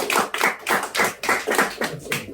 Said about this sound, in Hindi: कुछ अच्छा लगे तो ताली जरूर बजा देना